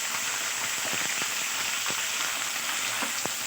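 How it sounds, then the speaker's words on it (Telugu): Green chillies frying in a couple of spoons of hot oil for tomato chutney, a steady close sizzle with occasional sharper pops and crackles throughout, no voices. "పచ్చిమిరపకాయలు వేసుకున్నామండి"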